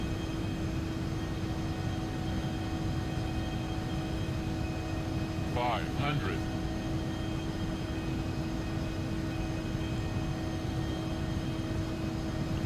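Steady broadband drone of an Embraer ERJ-145 Loganair regional jet's engines in flight, heard from the cabin, constant and unbroken with a low tonal hum and a brief higher chirp midway.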